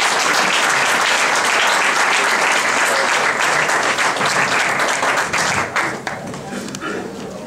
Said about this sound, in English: How about another round of applause for this family?